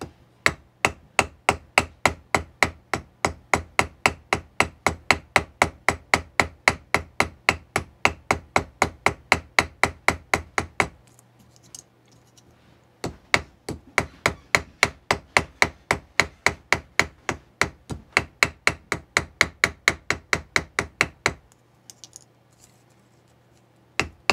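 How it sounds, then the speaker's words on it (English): Ball peen hammer working the flare of a tube rivet: two long runs of rapid, even metallic taps, close and crisp, separated by a brief pause with faint handling noise and no speech. "I'll switch over to the ball peen hammer, and you just kind of tap, go all the way around"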